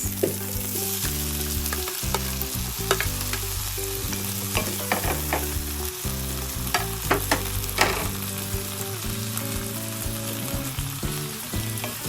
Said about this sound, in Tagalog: habang niluluto natin ang ating sibuyas at okay na siya